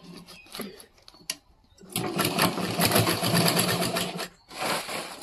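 Sewing machine stitching a bag made from a mint sack, a close, rapid mechanical chatter that starts in a short burst, pauses, then runs steadily for a few seconds and resumes briefly at the end.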